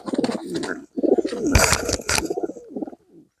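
Pigeons at a pigeon and poultry exhibition coo close by in several throaty, rolling bursts with short pauses, then trail off into a soft final coo.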